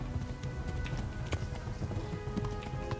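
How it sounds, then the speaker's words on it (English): A horse galloping along a streamside road toward Talmberg in the medieval role-playing game Kingdom Come: Deliverance, with rapid rhythmic hoofbeats close and steady under faint ambient noise. "El caballo de momento aguanta."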